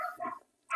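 A person imitates dogs barking during a Star Wars tabletop role-playing game, a short burst of yapping vocal barks that stops abruptly, then another bark-like shout begins at the end.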